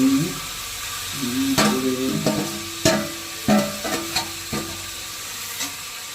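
Egg and potato tipped into onion and tomato frying in oil, a soft sizzle under scattered clanks and scrapes of a spoon stirring the pan, close and uneven.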